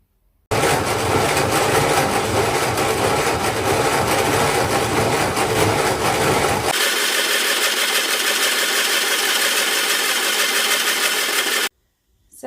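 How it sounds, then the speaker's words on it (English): An electric grain mill grinds foraged dock seeds into flour, with a loud, steady whirring roar starting abruptly, shifting to a lighter, thinner grinding tone partway through, then cutting off sharply. "So I've got my dock seeds sorted out and my grinder in place, and we're going to mill some off"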